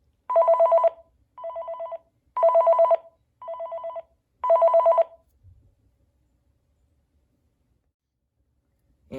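Panasonic KX-TG2583S cordless phone ringing with an electronic trill in five bursts that alternate louder and softer, close and clear, then silence.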